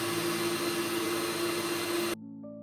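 A mixer grinder crushes grated coconut with half a teaspoon of fennel seeds, giving a loud, steady motor whir for about two seconds before cutting off abruptly, leaving a faint hum behind.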